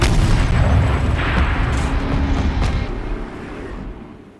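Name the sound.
turret firing in the video game Horizon Zero Dawn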